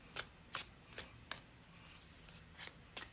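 A deck of tarot cards being shuffled up close: a series of quick, crisp riffling bursts at roughly half-second intervals, clear and fairly quiet against a soft background.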